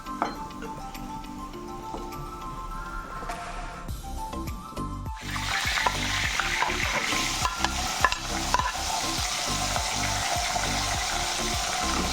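Potatoes fry in a pan while preparing a chicken curry. Steady sizzling swells louder partway through, with a rhythmic scrape and clatter of stirring and no talking.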